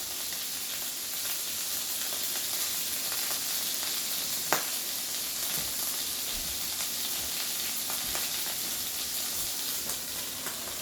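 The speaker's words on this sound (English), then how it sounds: "you're just going to let our chopped cheese cook" Chopped cheese filling of broken-up cheese and meat cooking in a hot pan, giving a steady soft sizzle throughout with one brief sharp click partway.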